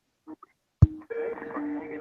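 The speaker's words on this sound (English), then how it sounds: "I call you on Skype." Skype call being placed on a phone: a short click followed by a steady electronic ringing tone with faint pitch shifts, quiet and close, after a couple of soft blips.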